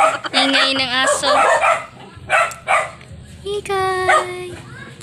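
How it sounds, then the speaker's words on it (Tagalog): A dog barks and yips repeatedly in short bursts, loud and close, with a whining, high-pitched edge between barks. "Ingay ng aso."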